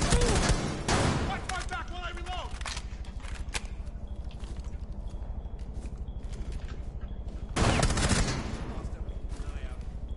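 Rapid automatic gunfire from Rainbow Six Siege, in dense bursts that open and close the stretch with a steadier stream of shots in between, and a player's voice talking over it.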